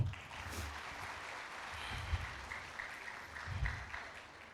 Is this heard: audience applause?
yes